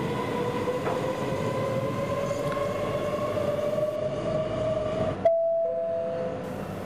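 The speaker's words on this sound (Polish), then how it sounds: "Nasz pociąg szybko opuszcza peron." A Swedish passenger train pulls away from a station platform, a loud steady rumble with a rising whine from the wheels and motors, ending in a sudden drop and a lingering tone, with no talk.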